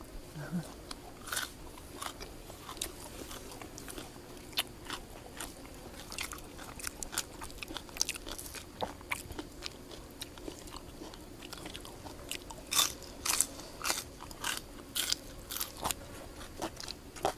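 Close, quiet crunchy biting and chewing of a meal of spicy papaya salad with grilled chicken, irregular mouth sounds continuing throughout over a soft background.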